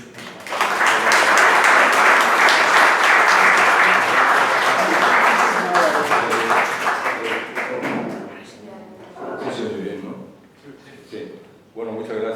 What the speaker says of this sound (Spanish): Le paso la palabra y pido un aplauso para José Vicente.